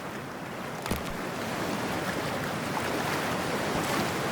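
Steady broadband rush of water and surf fills the scene as a character wades into toxic water in Cyberpunk 2077, with a brief splash-like burst near the start and no talking.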